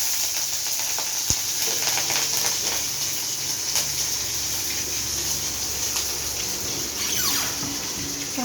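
Green chillies and cumin seeds tempering in hot oil for a paneer dhokar dalna, giving a steady close sizzle and hiss throughout, broken by one sharp click early on.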